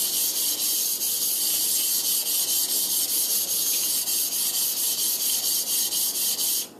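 A bookbinding plough blade is rubbed back and forth on sandpaper, making a loud, steady rasping scrape with a fast, even rhythm that runs continuously and stops abruptly at the end.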